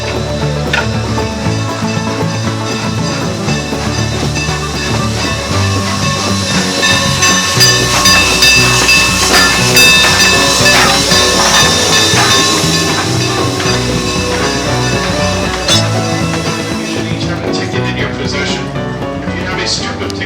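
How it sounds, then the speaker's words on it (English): Locomotive 475 on the Strasburg Railroad arriving, a steady loud rumble with rolling wheel noise, steam hiss and bright whistle-like tones throughout, with voices mixed in. "Here comes our train."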